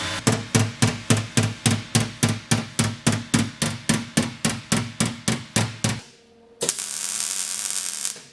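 Hammer blows ring out steadily on a steel wheel arch panel of a Mk2 Volkswagen Golf being tapped into line before plug welding, about twenty sharp, evenly spaced metallic hits, close and loud, then a short pause and a steady hiss.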